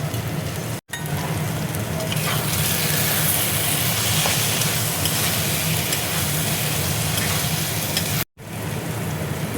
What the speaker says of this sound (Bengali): বড়ি ভাজাটা দেখো দিয়ে দিচ্ছি।